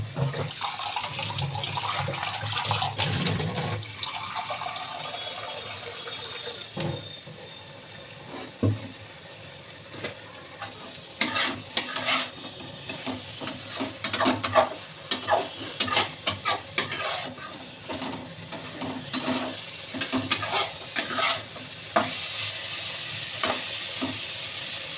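Water is poured into potatoes frying in a pan, giving a loud hissing sizzle at first that settles into softer frying, with a run of quick clinks and scrapes from stirring near the end.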